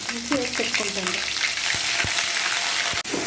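Garlic and ginger paste frying in a pan for chicken curry makes a steady hiss, with a brief voice near the start and a few sharp spoon knocks against the pan later.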